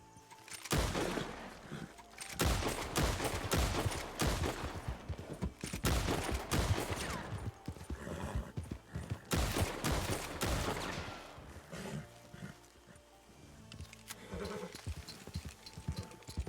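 Gunfire from hip-firing on horseback in Red Dead Redemption (RedM): rapid, loud volleys of sharp shots in dense bursts, easing toward the end and picking up again.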